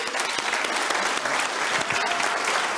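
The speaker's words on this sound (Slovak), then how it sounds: "No tak poďte, veľký potlesk." Studio audience on a Slovak late-night talk show breaks into big, sustained applause, dense clapping filling the whole moment with a few faint voices mixed in.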